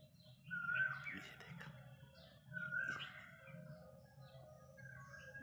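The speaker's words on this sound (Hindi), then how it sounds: "देखो शायद आपके पास आवाज़ आ रही होगी, कोयल बोल रही थी" Asian koel calling in a quiet morning outdoors near a home, two clear rising calls a couple of seconds apart over a low steady hum, moderately near, with no talk.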